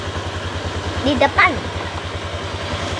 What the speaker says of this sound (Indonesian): Ini favoritku naik motor sama papa.